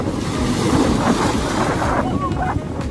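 Ocean waves at the shore, heard as a continuous broadband rush and wash with strong wind buffeting the microphone, steady and close, with faint voices mixed in.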